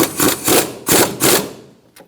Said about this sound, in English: We're going to snug up this bolt for our fork on our strut.